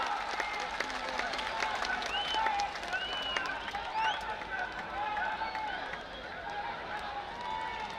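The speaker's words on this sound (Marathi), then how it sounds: "दोघांसाठी टाळ्या." A crowd claps and cheers at an outdoor wrestling ground, with sustained applause from many people at a middle distance while an announcer's voice carries over it.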